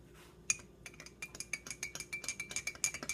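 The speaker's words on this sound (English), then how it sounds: "Just give that a little stir" A spoon stirs bulletproof coffee in a cup, giving a quick series of light metallic clinks and taps against the sides, close and fairly clear, with no talking.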